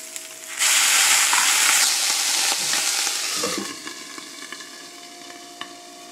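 Water hits a hot pan of broccoli with a sudden loud hiss, settling into a steady sizzle and crackle that slowly quiets.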